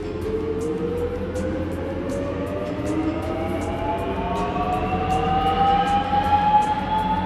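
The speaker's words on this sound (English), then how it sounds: "The feeding device pushes the pipe deposited in the trough against an inclined disc rotor, which is equipped with special cutting tools." An inclined disc rotor shredder with special cutting tools works through thick-walled plastic pipes, producing a steady loud mechanical rumble with a rising whine as the load changes, overlaid by regular sharp ticking impacts.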